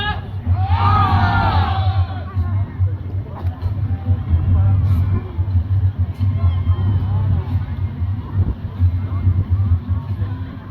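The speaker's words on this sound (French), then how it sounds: "J'aimerais bien vous entendre crier, s'il vous plaît." A crowd at a Viking medieval event shouts and roars loudly together, a big burst of yelling that settles into sustained hubbub with a low engine-like hum underneath.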